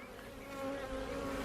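Honey bees buzz inside an open beehive, a steady close drone with a humming tone and no voices.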